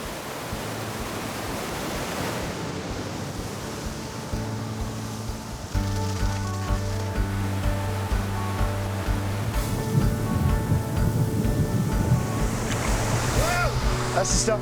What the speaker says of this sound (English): there's another 30-foot waterfall